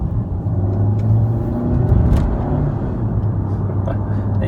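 A Mercedes C180 W204 fitted with a RaceChip turbo boost unit accelerates with a steady low engine rumble and road noise from inside the car, with a faint voice murmuring underneath.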